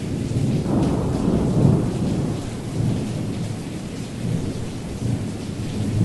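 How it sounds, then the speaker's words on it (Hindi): Heavy rain pours steadily, a dense broadband roar with low rumbling swells like distant thunder, loud and continuous throughout with no voices. "इतनी तेज बारिश हो रही है और आप भीग रहे हैं।"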